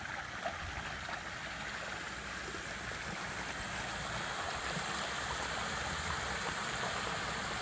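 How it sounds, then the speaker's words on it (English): Water rushing steadily through a backyard gold sluice box, a constant, even hiss and gurgle of flow that swells slightly louder toward the end, with no talking. "Water flow seems to be a bit even."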